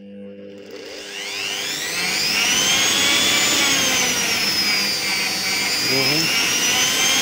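A Silvercrest 550 A1 food processor motor spins up from quiet to a loud, steady high-pitched whine that keeps running, with a brief spoken word partway through.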